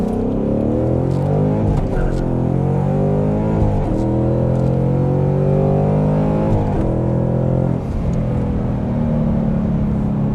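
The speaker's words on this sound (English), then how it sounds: "You keep it pegged, and they've got the computer doing it, so it shifts like butter at full throttle." A Ford Mustang (Mach 1 or GT350) fitted with an MGW TR-3160 Gen-2 shifter pulls hard at full throttle, its loud engine climbing through rising revs with quick dips at each gear change, heard from inside the car under voices.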